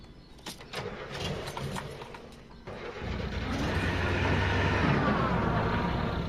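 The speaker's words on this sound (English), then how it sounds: "When you're actually starting it, you hear it stall." A UAZ 31519 police vehicle engine in a video game mod cranks and catches, then rumbles into a steady, rising mid-pitched drone that builds louder toward the end, with no talk over it.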